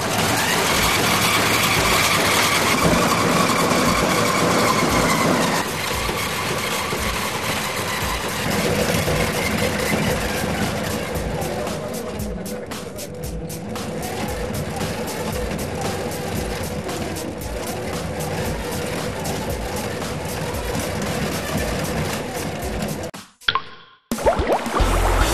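A Voith Schneider propeller drive runs steadily at changing RPM, a continuous mechanical engine drone with fluctuating pitch and some rapid ticking, close and loud for over twenty seconds, then cutting out abruptly near the end.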